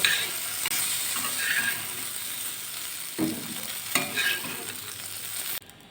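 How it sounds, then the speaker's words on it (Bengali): Okra fries in oil in a pan with a steady close sizzle and occasional stirring scrapes throughout, no voices, ending in a sudden cut. "ভেন্ডিগুলো ভাজা হয়ে গেছে এবারে ভেন্ডিগুলো আমি তুলে নেব"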